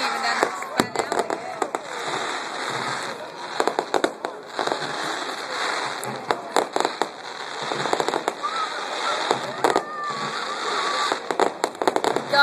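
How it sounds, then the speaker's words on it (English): Fourth of July fireworks finale over Charleston, West Virginia, near a bridge, with rapid bursts and sharp cracks on a constant crackling roar, while people talk and cheer throughout. "He's got his own fireworks over there."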